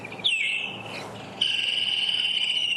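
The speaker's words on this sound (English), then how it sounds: "call it with my telephone app that has got the bird call." Woodland kingfisher call played from a phone speaker on a safari drive: a loud, piercing whistled note followed by a long, sustained, trilling high call that rings on steadily.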